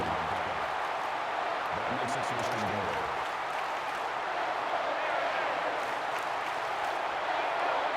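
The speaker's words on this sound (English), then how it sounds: "Crowd is chanting, "Let's go Gators."" Stadium crowd in the NCAA 14 college football video game chanting during a game, a steady, dense roar of many voices filling the whole stretch, with a commentator's voice talking over it.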